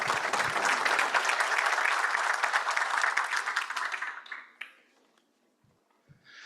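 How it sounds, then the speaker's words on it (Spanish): Loud audience applause at a Summit TIC Norte 2025 conference award presentation, steady for about four seconds before dying away into near silence with a few scattered claps. "Fuertes los aplausos, por favor."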